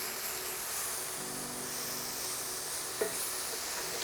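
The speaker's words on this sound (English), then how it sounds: "We're gonna get these veggies mixed together." Vegetables stirred in a hot pan for a seafood cheesesteak, with a steady close sizzle and hiss throughout and a brief utensil scrape near the end.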